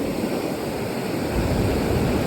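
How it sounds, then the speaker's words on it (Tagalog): Big sea waves surging onto the black-sand shore of an uninhabited island at Mauban, Quezon, a steady broadband roar of surf that swells slightly louder midway, with no voices. "Malaki talaga yung alon. Nakakatakot."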